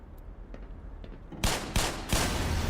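An exploding barrel bursts in the shooter game Black Mesa, a quiet background giving way to several loud, sharp blasts roughly a third of a second apart, followed by sustained roaring noise.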